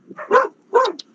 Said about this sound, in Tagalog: si Aso ay gusto ring matuto.